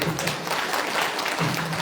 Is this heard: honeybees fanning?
no